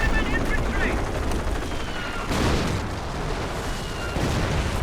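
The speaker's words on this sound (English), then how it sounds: "Here comes an off-map artillery barrage." An off-map artillery barrage in the Company of Heroes video game, a dense run of heavy booms and blasts overlapping one another, loud and continuous with rumbling surges throughout.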